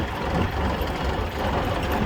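A Kubota GL21 mini tractor engine runs steadily at close range, a continuous, loud low rumble without pauses.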